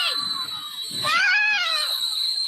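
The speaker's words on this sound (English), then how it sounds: "Look at the babies screaming for dear damn life." Babies screaming loudly, shrill wavering cries that rise and swell near the middle, heard close with no talking over them.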